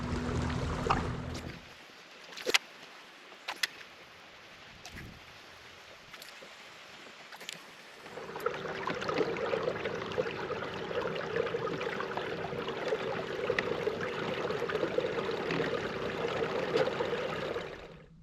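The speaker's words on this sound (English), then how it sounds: "This is when I appreciate my kayak. Isn't this incredible? Cruising upriver against current that I would not want to paddle against." Kayak moving upriver against the current on a small Tennessee creek: scattered quiet knocks and clicks at first, then a steady close rush of moving water that continues to the end, with no talking.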